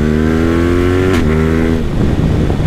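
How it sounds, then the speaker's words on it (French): Motorcycle engine revving loud and close with harmonic drone, then a sharp crack at a quickshifter gear change, followed by rough popping and burbling from the exhaust. "les passages au shifter, c'est des coups de fusil"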